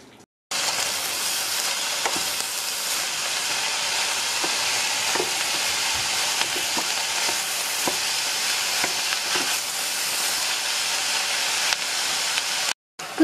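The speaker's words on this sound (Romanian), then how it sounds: "Trecem să sotăm acum." Vegetables for a cabbage and pork rib soup sautéing in a pan, a steady, close, loud sizzle running unbroken with faint stirring scrapes and no talk.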